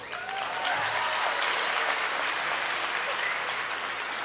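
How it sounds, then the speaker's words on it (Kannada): Audience applause at a standup comedy show, a full, even burst of clapping from a seated crowd that swells quickly and holds steady. "ಒಂದು ಚಪ್ಪಾಳೆ"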